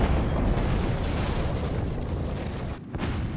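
A howitzer shell exploding in the video game Forts produces a sustained, loud, broadband rumbling blast that fills the whole clip and cuts off briefly near the end, with no talking.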